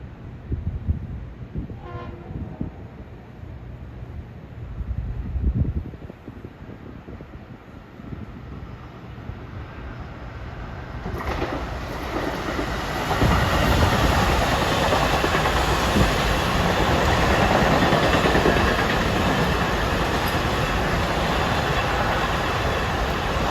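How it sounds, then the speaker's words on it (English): Long Island Rail Road train 1558, made up of M3 electric cars and running from Penn Station to Huntington, approaches Forest Hills with a brief horn, then grows from a distant rumble into a loud, sustained roar as it arrives. "here comes train 1558 from Penn Station to Huntington with"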